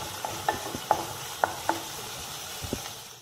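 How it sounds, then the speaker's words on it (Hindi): Peanuts roast lightly in a pan for seviyan kheer. A soft sizzle runs underneath while a spoon stirs, making several distinct clinks and scrapes against the pan. It is close and quiet. "मूंगफली है वो अब हल्की सी फ्राई हो चुकी है"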